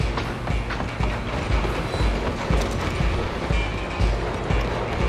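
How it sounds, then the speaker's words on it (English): A train rumbles along in the video game Red Dead Redemption 2, wheels clattering rhythmically on the rails in a steady, close, continuous roll. "I'm gonna ride ahead and stop the train."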